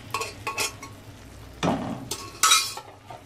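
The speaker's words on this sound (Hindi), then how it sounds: "हम जो गला के रखे थे वो दाल डालते जाऊँगी मैं इसमें" Cooked dal poured into a sizzling tadka for dhaba-style dal tadka, with bursts of hissing and spoon scraping in separate surges over a few seconds, loud and close, no talking.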